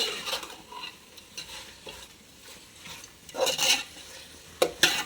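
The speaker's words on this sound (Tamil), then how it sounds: "நல்லா அந்த மசாலாலாம் நல்லா கிளறி விடுங்க" Mutton masala with yogurt is stirred in a pot for biryani, producing repeated scraping spoon strokes in bursts over a low background sizzle, with sharp metallic scrapes near the end.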